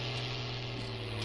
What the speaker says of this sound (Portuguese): mal liguei o trator e já tô acelerando desse jeito